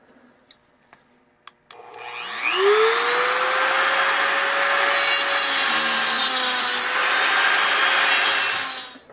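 A Dremel rotary tool cutting through a bolt, a few clicks, then the motor spins up and holds a loud, steady, high whine while grinding the metal for several seconds.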